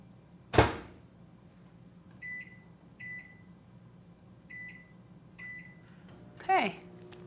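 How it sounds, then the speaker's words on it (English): A microwave oven hums steadily with a few short beeps, bracketed by a sharp door clunk at the start and another bang near the end. "now you're going to put it in the microwave?"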